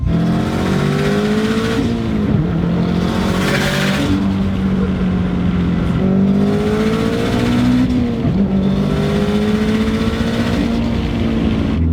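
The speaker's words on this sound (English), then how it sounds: "you hear tire squeals, and that's because the tires are going" A 680 HP stanced Subaru drives hard, its engine droning loudly and rising and falling through repeated throttle swells, with tire squeals mixed into the continuous roar.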